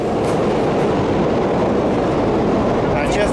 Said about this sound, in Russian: а проехала электричка, и звуки очень похожи на тех, что нас пугали